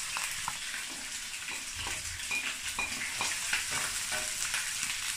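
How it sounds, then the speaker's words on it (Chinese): Chicken pieces stir-fry in hot oil in a wok, a bright continuous sizzle with rhythmic stirring scrapes, close and fairly quiet. "现在油已经热了，把鸡块放里面。 把鸡块炒的微黄，"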